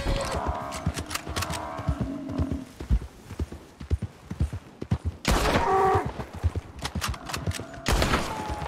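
Gunshots in Red Dead Redemption 2 ring out as a few sharp cracks among steady horse hoofbeats, with a loud burst midway and more shots near the end.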